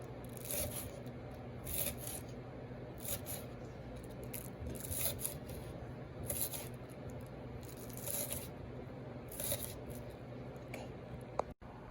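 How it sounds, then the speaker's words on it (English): Scallions being trimmed and thinly sliced with a knife on a cutting board, whites separated from greens, giving a run of crisp, repeated cutting strokes in uneven bursts over a steady low background hum. "we're going to trim and thinly slice our scallions, separating the whites from the greens"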